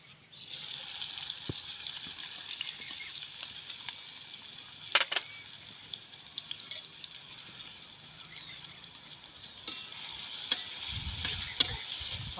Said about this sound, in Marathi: तेल गरम झालेलं आहे आता कांदा टाकून घेऊया आपण